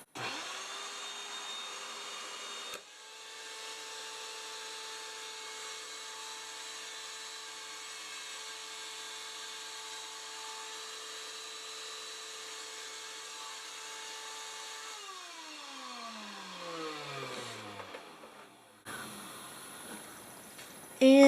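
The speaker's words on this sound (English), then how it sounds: "So I'm going to go ahead and turn on the vacuum." A We R Memory Keepers mold press vacuum runs as a steady mechanical whine and hum, starting with a click, holding constant, then winding down in pitch before a final clatter.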